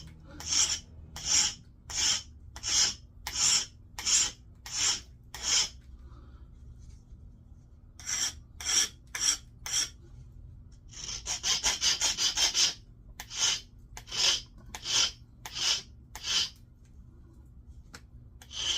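A Mookaite stone arrowhead is notched with rhythmic rasping strokes, each a short scrape in steady sequence, with a brief pause and a quicker burst of rubbing, close and clear.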